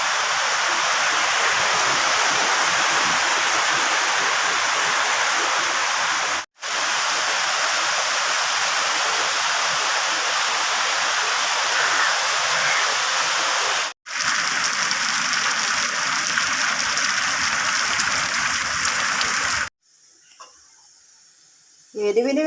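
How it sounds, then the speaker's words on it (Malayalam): Heavy rain pours outdoors as a loud, dense, unbroken hiss, interrupted by a couple of abrupt cuts, before dropping to a much quieter indoor background at the end. "ഭയങ്കര മഴ പെയ്തുകൊണ്ടിരിക്കുകയാണ് ഇപ്പോൾ ഇവിടെ"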